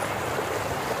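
River water beside a temple path in Janakpur, Nepal, rushes in a steady, dense hiss with no breaks, close and fairly loud, with no voices over it.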